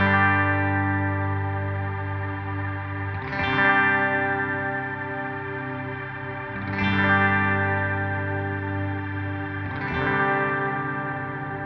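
Ambient electric guitar played through a Line 6 POD HD500x with chorus, delay and reverb, sustained chords swelling in three times at steady intervals and washing into long echoing tails, with no talking.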